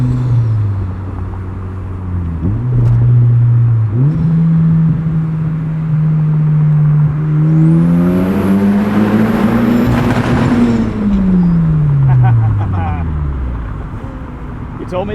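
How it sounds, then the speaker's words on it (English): A 2003 turbocharged Mazda Miata engine idles, then revs up steadily to a high bouncing rev limiter with a whine, before dropping back down to a low rumble. "you told me to get into rev limiter"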